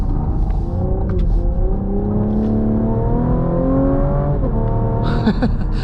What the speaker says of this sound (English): it still has a nice snap and crackle to this V6 engine here